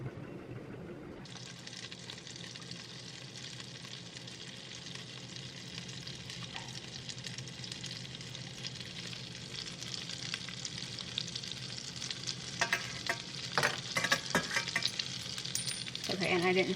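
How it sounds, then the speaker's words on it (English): Butter and olive oil sizzle in a pan over medium-high heat; after a quiet start a bright, steady hiss sets in and swells toward the end with louder crackling spatters, all close and with no talking. "Add 2 tablespoons of the butter plus the olive oil over medium-high heat."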